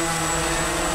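A Walkera QR X350 Pro quadcopter hovers in GPS mode, its motors giving a steady, close, continuous whine for about a second.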